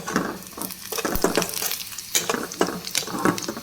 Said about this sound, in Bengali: পেঁয়াজ বেশিটা ভাজা হচ্ছে।